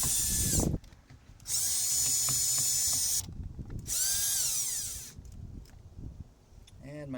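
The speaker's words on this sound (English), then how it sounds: "And my drill just ran out of battery." A cordless drill runs in bursts while unscrewing a microwave fan motor being scrapped, its loud whine rising and stopping in two long runs with clicks and handling noise between, and a voice speaking briefly.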